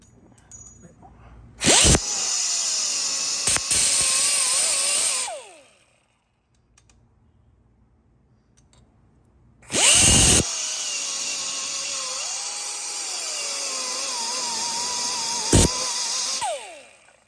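A power tool with a sanding pad grinds a metal 6R80 transmission adapter loudly in two bursts of several seconds each, separated by a quiet pause, each burst ending as the motor spins down.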